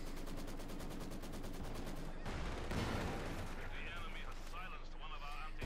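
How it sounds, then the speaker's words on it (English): Artillery shells and machine-gun fire crash through a Company of Heroes 2 battle as a Maxim gun position is shelled, dense overlapping blasts and rapid bursts under continuous commentary. "Artillery fire there on the Maxim."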